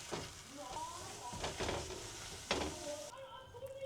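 Food sizzles and spits in a hot pan, with stirring and scraping clatter breaking through at intervals and faint voices underneath.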